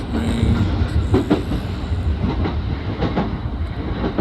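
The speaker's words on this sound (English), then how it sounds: "Riding on the train." A train rumbles steadily along the rails with rhythmic clickety-clack of wheels over joints, a constant loud roar heard from inside the moving carriage.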